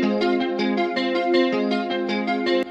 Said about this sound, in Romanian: vom începe cu elementul principal și anume această chitară